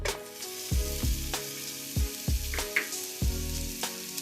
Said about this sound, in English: You want to saute your onion for 2 to 3 minutes.